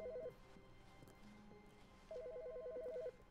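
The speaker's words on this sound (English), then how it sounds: "Wait, what phone's ringing?" Telephone rings inside the video game The Stanley Parable, two bursts of trilling electronic bell, a short one at the start and a longer one near the end, over a quiet low room hum.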